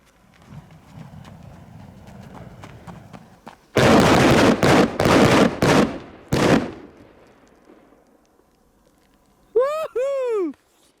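Albanian Gaoo Hammer H2-GTR 40g firecrackers go off outdoors on ice in a rapid string of loud, sharp bangs. Quieter crackling and voices come before them, and a voice says something afterward.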